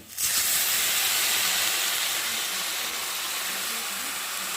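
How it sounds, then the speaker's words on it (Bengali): Water poured into a pan of frying chow mein sets off a loud, steady hiss that begins abruptly and holds for several seconds, close and alone. "আর এই দেখো এখন পরিমাণ মতো একটু জল দিয়ে দিতে হবে।"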